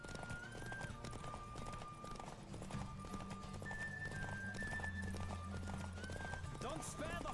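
Hooves clip-clop rhythmically as a horse gallops in The Witcher 3, with a whinny and game ambience layered over the continuous hoofbeats and a voice present alongside.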